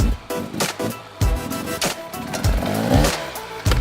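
A 2017 Husqvarna enduro motorcycle doing a slow wheelie: the engine blips and revs in short, uneven bursts under clutch control, loud and close, with no talking.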